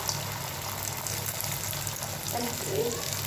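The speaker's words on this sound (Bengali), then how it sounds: "আলুর চপটা ভাজা হতে হতে সাথে আমার ডিমটা ভাজা হয়ে যাবে" Potato chops and an egg sizzle steadily in hot oil, a continuous bubbling fry with faint clatter in the background.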